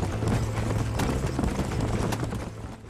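Horse hooves clatter in a steady gallop rhythm through the Red Dead Redemption video game, fairly loud and continuous beneath a low steady hum, with no talking.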